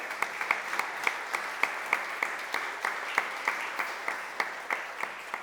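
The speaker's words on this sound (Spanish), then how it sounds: "Os voy a pedir también, por supuesto, un aplauso para Sergio." An audience applauds steadily at a book presentation event in Gijón, with sharp individual claps standing out over a continuous crowd of hands, no talking.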